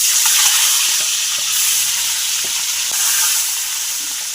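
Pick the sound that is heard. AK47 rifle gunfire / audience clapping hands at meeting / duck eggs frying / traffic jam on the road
duck eggs frying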